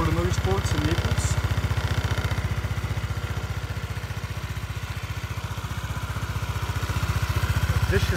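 A 2010 Honda Elite 110 scooter's small 8.9 horsepower engine idles steadily nearby with a regular putt-putt pulse, faint voices briefly audible early on.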